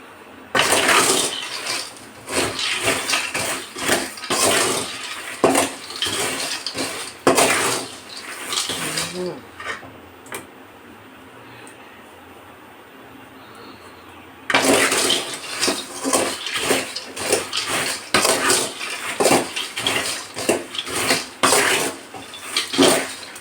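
Food roasting in a pan in a home kitchen, with repeated scraping and clattering of a utensil against the pan in bursts, a quiet pause in the middle, then more stirring clatter.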